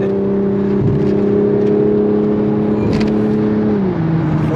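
A Toyota Supra sports car drives with a loud, steady engine drone from inside the cabin, a brief rev shift near the start and a pitch drop toward the end, with no talk over it.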